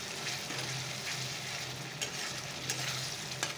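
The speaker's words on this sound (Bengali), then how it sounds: "মশলাটাকে একটু ভালো করে একদম হালকা ভালো করে কষিয়ে নেব।" Spice paste with turmeric being sautéed in a pan, a low steady sizzle with occasional scraping stirs and soft clinks of the spoon, no voices.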